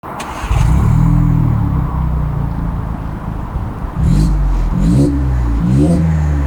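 A VW Tiguan 2.0 fitted with a tuned aftermarket exhaust starts up and is revved repeatedly, the loud, close engine note rising and falling in several sharp bursts over a deep idle.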